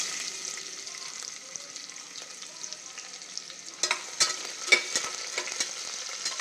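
Chopped onion frying in oil with cumin seeds inside a pressure cooker, a steady close hiss with stirring scrapes and clatters growing sharper in the second half, no voices.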